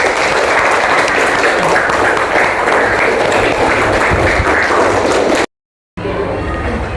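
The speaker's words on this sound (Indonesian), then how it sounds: "tepuk tangan." Classroom students clap their hands together in dense, even applause for several seconds, and the clapping stops abruptly.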